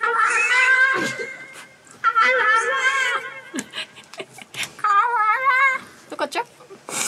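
A cat meows repeatedly from a played recording, a series of drawn-out, wavering mews with short gaps, loud and close, while people talk around it.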